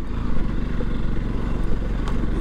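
Motorcycles on a mountain road toward Manang, a continuous close engine drone with a rhythmic low putter and rattling clatter, loud and steady, with no talking.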